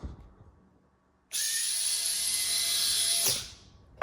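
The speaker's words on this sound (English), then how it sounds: "now we're running 3S Iguana Pro with the Chameleon motor, 3S stock ESC" A Furitek Iguana Pro RC crawler with a Chameleon brushless motor on 3S and stock gearing winds up into a loud, steady high-pitched electric whine that holds for about two seconds, then spins down.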